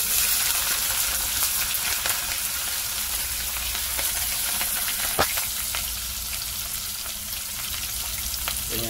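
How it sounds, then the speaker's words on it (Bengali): Chopped onions frying in hot oil in a pan for a one-pot egg and potato dal, a loud, steady, close sizzle that holds continuously with faint stirring scrapes and no talking. "এরপরে আমরা দিব আমাদের পেঁয়াজ কুচিগুলো।"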